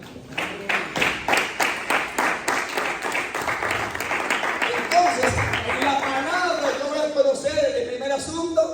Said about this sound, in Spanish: Denle un aplauso al Señor si pueden.